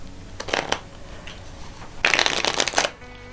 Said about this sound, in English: They'll probably do an overhand shuffle.